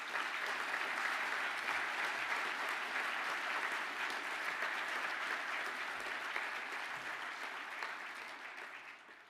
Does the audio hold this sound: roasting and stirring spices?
no